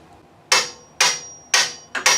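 Metal hammer blows driving a part into a racing sidecar, four sharp, loud ringing strikes at roughly half-second intervals, the last two coming in quick succession, with no talk.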